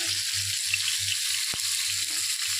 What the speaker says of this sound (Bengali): একটা শুকনো লঙ্কা, একটু জিরে আমি ফোড়ন দিয়ে নিয়েছি। দিয়ে দিলাম একটু গোটা গরম মশলা।